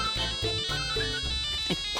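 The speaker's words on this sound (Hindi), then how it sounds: "फोन गलते टाइम पे आता है।" Phone ringing with a melodic ringtone, a loud repeating tune of bright tones playing continuously at close range, with no speech over it.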